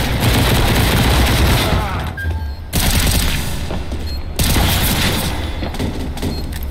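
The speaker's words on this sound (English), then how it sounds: "Throwing flashbang." A CS:GO match with a flashbang thrown amid loud, dense bursts of gunfire and explosive booms filling the whole stretch, with a couple of brief lulls.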